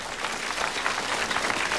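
An audience claps for a woman at a sale event, a brief, steady burst of crowd applause at moderate loudness.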